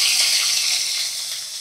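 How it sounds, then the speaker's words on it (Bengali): Diced mixed vegetables dropped into hot oil for pasta give a loud, continuous close-up sizzle that fades slightly toward the end, with no talking. "তেলটা গরম হয়ে গেছে, দেখো আমি দিয়ে দিলাম, সমস্ত সবজি দিয়ে দিলাম"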